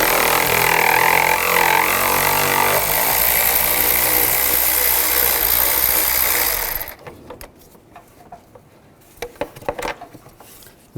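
A power tool spins off the 13 mm radiator fan bolts on a 2010-2017 Chevrolet Equinox, a loud, steady mechanical whir that runs for about seven seconds, then stops, leaving faint clicks and taps.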